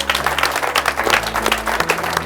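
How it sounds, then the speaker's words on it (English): An audience at a Bass Pro Shops high school bass fishing event gives a big round of applause, loud dense clapping throughout over a low steady hum. "So give all these guys and everybody one more big round of applause for the night"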